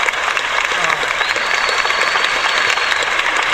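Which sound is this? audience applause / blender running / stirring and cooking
audience applause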